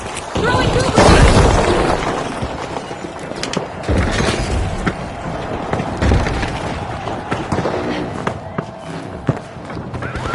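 A goo grenade in The Finals is thrown and bursts, giving loud cracking booms with splintering, shattering debris, followed by scattered thuds and impacts under a voice talking.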